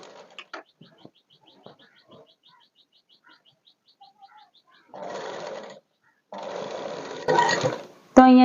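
A sewing machine runs a straight stitch up to a dress slit in two close bursts, first about a second long and then a longer run, after scattered light clicks and soft chirps in a quiet room.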